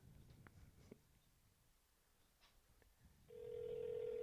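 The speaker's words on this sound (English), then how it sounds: "The phone's ringing." After a few quiet seconds of faint clicks, a steady electronic ring tone starts and holds, a phone ringing heard through a handset.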